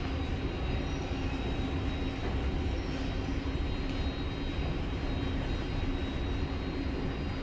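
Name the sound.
LA Metro subway train running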